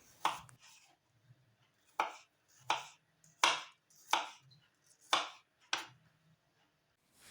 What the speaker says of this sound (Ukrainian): Нарізаю яблуко на невеличкі кубики.